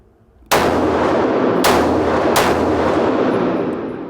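Three loud rifle shots crack close by, each followed by a long booming echo that carries across open ground, with no voices between them.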